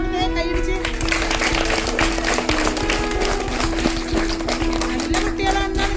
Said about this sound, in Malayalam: ഓക്കെ, അപ്പൊ ടീച്ചർക്ക് ഒരു താങ്ക്സ് കൊടുത്തേ, കൈയടിച്ച്.